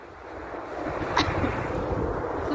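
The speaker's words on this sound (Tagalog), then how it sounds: "Snowstorms, guys!" Snowstorm wind in Russia blows steadily and loudly into the microphone, a rough continuous roar with gusty buffeting.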